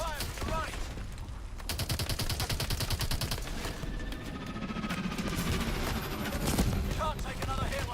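Gunfire in the Call of Duty Advanced Warfare campaign: dense, sustained bursts of rapid automatic fire crackle over a noisy battle bed, mixed with voices.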